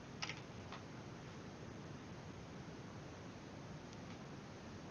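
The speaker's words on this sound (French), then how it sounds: "il suffit simplement d'appuyer sur la touche entrée de votre clavier" A computer keyboard's Enter key clicks a couple of times near the start, with another faint tap later, each a quick, quiet keystroke over a low, steady hiss of room and fan noise.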